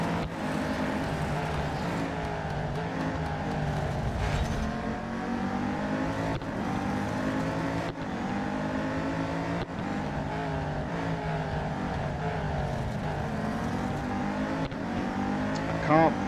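Race car engine in Real Racing 3 revs loudly and steadily, its pitch climbing and dropping through gear changes, with continuous motor drone and faint tire noise.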